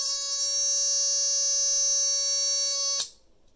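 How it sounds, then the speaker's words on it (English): A Timex mini alarm clock sounds its alarm, a loud steady electronic buzzing tone held for about three seconds before cutting off abruptly, alone in a quiet room. "To use the alarm, you set the time and then press this button saying alarm."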